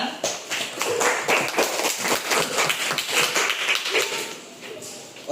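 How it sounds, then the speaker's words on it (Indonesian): A classroom of students claps together in a quick, even rhythm, loud and close, with some voices mixed in among the dense run of claps. "Ya, berikan tepuk tangan."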